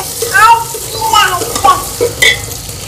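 Red chillies hit hot oil in a pan with a crackling sizzle and light stirring, small pops and spits rising and falling close by while a voice talks over them.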